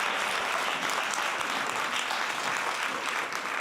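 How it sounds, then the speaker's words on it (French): Dense, sustained applause from a large audience at a religious gathering, steady and even throughout with no pauses, heard from a distance. "Johanna, je veux un tonnerre d'applaudissements pour toi."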